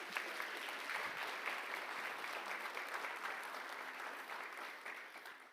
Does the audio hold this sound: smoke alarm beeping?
no